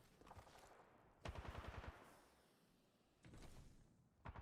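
Bursts of automatic gunfire in Titanfall 2 played on PC, coming in separate rapid volleys with short gaps between them, loud and close.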